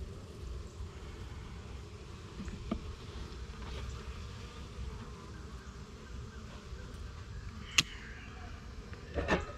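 Honey bees buzzing around an opened, weak hive during an inspection, a faint continuous drone with a few brief knocks and clicks from handling the frames.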